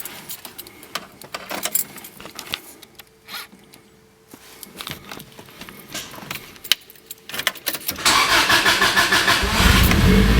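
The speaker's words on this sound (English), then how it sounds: "you'll get a hear of how it sounds on a cold start" Keys jingle and rattle for several seconds, then a Subaru GC8 Impreza STI Type-R engine cranks from cold and catches, settling into a loud, steady idle up close.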